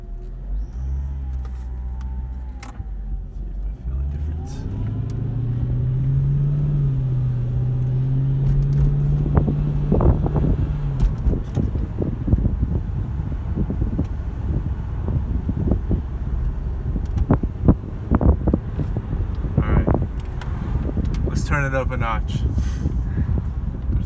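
Car fitted with a Sprintbooster throttle controller, set to green level 5, driving around, with a steady engine and road rumble plus wind noise and one rising engine tone early on.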